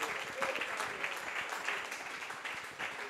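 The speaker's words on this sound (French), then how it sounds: "Let's give God a clap offering." A church congregation bursts into applause, a dense, steady wash of many hands clapping together for a few seconds, close and moderately loud with a faint trace of voices underneath.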